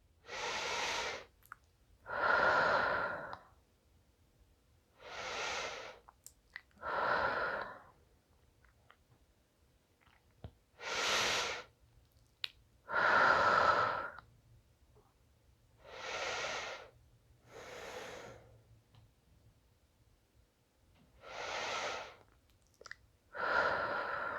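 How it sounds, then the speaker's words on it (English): Slow, deep breaths taken while lying in a yoga pose in bed, about eleven soft inhales and exhales in a steady unhurried rhythm, close and quiet with silence between them and no talking. "taking a few deep breaths here"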